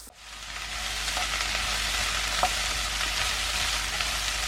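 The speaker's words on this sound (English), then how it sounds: "I want you to stir fry this along until the onions start to sweat" Onions and sweet corn stir-fry in olive oil, giving a steady, close sizzle that hisses without a break for several seconds, with a few faint spoon taps and no talking.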